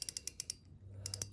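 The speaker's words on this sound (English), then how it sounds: "I will say though, the drag sounds a lot better in this." Shimano fishing reel drag gives a quick run of crisp, evenly spaced clicks, then a brief pause before more clicking resumes, close and fairly quiet.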